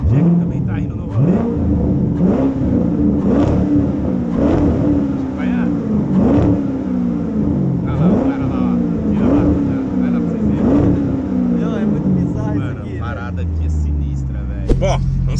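Car engine starting and pulling away, revving up repeatedly in rising, rhythmic sweeps as it accelerates through gears, loud and close, with people talking over it.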